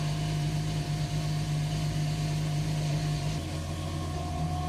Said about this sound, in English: Also, the engine is running super rich.